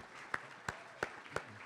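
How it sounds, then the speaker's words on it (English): A handful of sparse, evenly spaced claps from a small audience at a nonviolence conference session, quiet and distant with soft room noise between them. "Let's have a round of applause."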